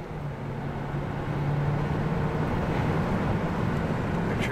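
A car drives along a road, its interior engine and tire rumble a steady low drone with a faint whine rising slightly, heard up close with no talking.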